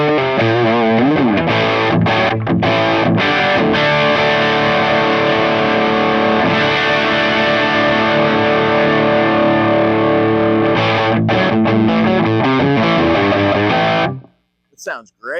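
Heavily distorted high-gain electric guitar through a BuzzTone Megaplex Stage 3 pedal, played loud and continuously with sustained chords and riffing for about fourteen seconds before cutting off abruptly.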